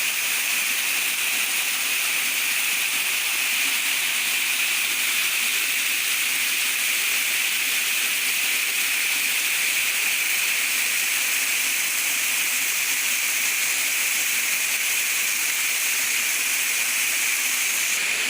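A waterfall in Laos roars as a constant, dense hiss of rushing water, steady and fairly loud throughout, with no voices.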